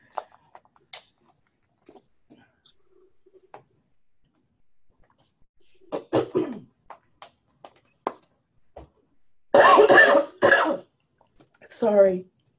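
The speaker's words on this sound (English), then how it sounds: "Sorry, I just coughed." A person coughing and clearing their throat during a presentation, several loud close bursts near the end, after quieter scattered clicks and small mouth sounds.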